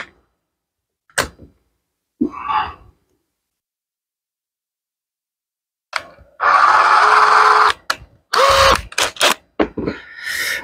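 A power drill whirs in a couple of short bursts into plastic after near silence, with clicks and handling noise between runs, close by and fairly loud.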